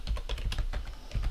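Rapid clattering keystrokes on a computer keyboard, a dense, busy run of typing heard close and alone with no voices.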